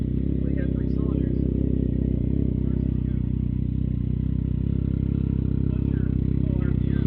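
A Can-Am Ryker's three-cylinder engine with an aftermarket exhaust rumbles deep and loud at close range, holding a steady, throbbing note throughout.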